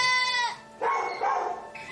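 Goats in poor condition after a cold snap on a rescue call, with a strained bleat-like cry at the start followed by rough, broken animal calls.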